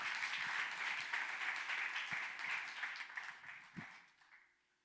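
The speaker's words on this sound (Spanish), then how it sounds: "Yo creo que alguien le merece un aplauso al Señor más fuerte que eso." A church congregation claps together in a moderate round of applause that tapers off and fades to quiet within a few seconds.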